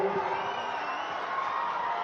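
A large audience claps and cheers in a steady, dense wash of applause for the Chief Minister at a benefit-distribution event for tendu leaf collectors in Betul. It stays loud and continuous throughout, with no clear single voice.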